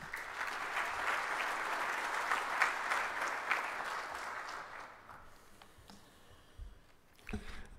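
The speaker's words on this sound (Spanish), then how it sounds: "Quisiera dar la bienvenida al doctor Félix Pérez con un fuerte aplauso." A symposium audience gives a warm round of applause welcoming a doctor to the podium, dense clapping for about five seconds that then thins out and fades, with a few stray noises afterward.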